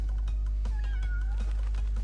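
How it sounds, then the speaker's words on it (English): A cat meows once, clear and close with a rising then falling pitch, against a constant low hum and faint clicks in the background. "Meow for good luck."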